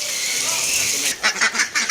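A steady hiss of rainwater, then a few short quacks from nearby ducks, roughly five calls in quick succession.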